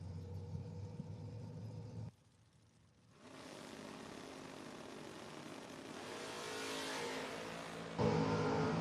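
Drag racing launch of a Camaro and a Vega Wagon at the strip: a rumbling idle cuts out, then a broad, roaring engine rush builds steadily and swells near the end, loud and close with no talk.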